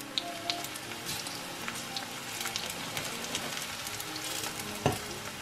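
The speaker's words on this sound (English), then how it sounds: "you just make these fry on each side" Slices of ripe plantain fry in hot oil in a pot, giving a steady close sizzle and crackle with scattered pops and a sharper spatter near the end.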